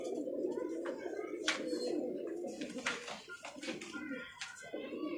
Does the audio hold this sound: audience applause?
no